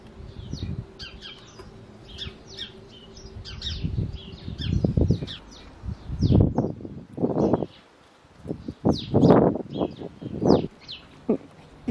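Small garden bird with its head caught in a bird box entrance, giving high chirps and flutters of wings and rustling, close and intermittent among soft, low-pitched handling noises.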